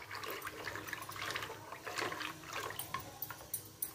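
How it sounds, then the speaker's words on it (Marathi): Water is poured from a glass into yogurt kadhi batter, giving a steady, close splashing and trickling for about four seconds with a few sharper splashes near the end. "आणखीन दुसरा ग्लास पाणी टाकते मी इथं."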